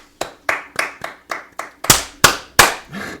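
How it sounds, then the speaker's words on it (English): A handful of people applaud for a sports talk show, starting as about seven distinct, evenly spaced single claps that swell into louder, denser bursts, close and clear with no talking. "Let's give it a round of applause"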